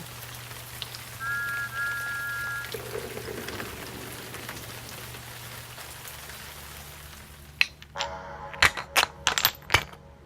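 Steady patter of rain in the background, with a brief tonal whistle early on and sharp drip-like taps and clicks near the end.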